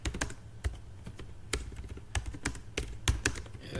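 Computer keyboard typing, a quick irregular run of close, crisp key taps with short pauses, moderately loud and with no voice over it.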